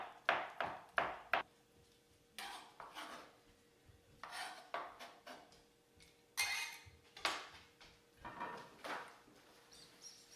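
Knife chopping olives on a board while making Moroccan sandwiches: clusters of quick, sharp close-up chops in short bursts separated by pauses, with faint kitchen hum beneath and no talk.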